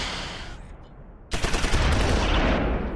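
Mortar and small-arms fire in the war game Close Combat 4, set in the Battle of the Bulge: a dull rumble, then a sudden loud burst of rapid gunfire and explosions that keeps rattling.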